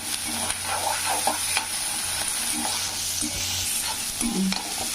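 Onion, garlic and ginger fry in a pan for a pinto bean kulambu, a soft steady sizzle broken by light scraping and stirring knocks, fairly quiet and close, with no talking.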